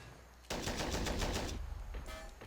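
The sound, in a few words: gunfire from a gun in a video game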